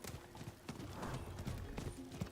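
Horse hooves clip-clopping in Diablo 4: a faint, steady trot of hoofbeats continues through the short stretch under low game ambience.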